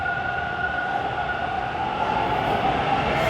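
A Line 2 subway train sits at the station with a steady rumbling drone and a sustained tonal whine, moderately loud and continuous, with no talk.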